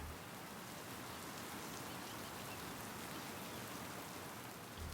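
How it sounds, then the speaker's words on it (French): Rain falls over a bay as a quiet, even hiss of countless drops, steady and unbroken throughout with no voices. "la pluie recouvrait toute la baie de son lourd manteau gris"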